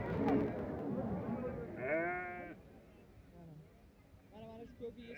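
Goats bleat several times at a busy livestock market in Sariosiyo, Surkhandarya. The wavering, nasal calls come in short bursts over crowd chatter and voices talking nearby.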